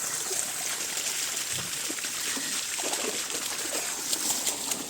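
Children splashing and swimming in shallow water outdoors on a hot afternoon, a steady broadband wash of moving water with scattered splashes throughout, fairly distant and continuous.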